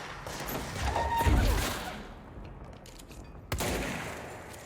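Fireworks crackling and booming in the video game Control: a dense burst of loud popping explosions swells then fades, followed by another sharp crack and a lingering rumble.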